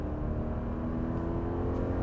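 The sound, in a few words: 2025 Subaru Forester engine accelerating at full throttle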